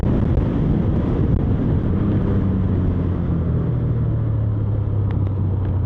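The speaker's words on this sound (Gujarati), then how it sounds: "થોડીક વાર જ આવે ઠંડો પવન" Cold wind buffeting the microphone during a motorcycle ride in Gujarat, a constant rough rumble of air with a low engine drone running underneath the whole time and no one talking.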